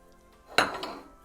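A spoon clinks against a pan while butter and Parmesan are mixed into risotto: one sharp metallic knock followed by a quicker lighter scrape, close and brief.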